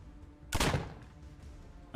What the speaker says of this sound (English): That was the shotgun.